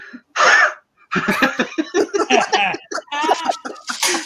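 A person imitates a cow's hacking cough with a sharp, rough burst, then a run of strained, throaty vocal noises, close and loud.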